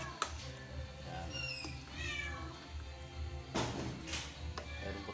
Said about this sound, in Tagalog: Meron po tayong background na pusa, iyak ng iyak.